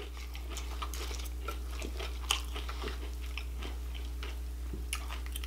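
Honey Bunches of Oats cereal is chewed close to the microphone, with soft crunchy bites and scattered clicks over a low steady hum.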